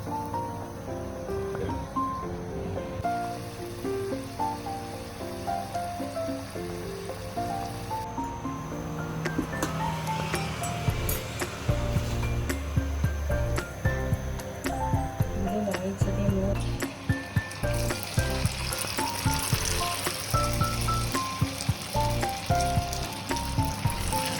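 Kanyakumari mundiri kothu balls deep-frying in hot oil, a steady sizzle and crackle running throughout under background music and a talking voice.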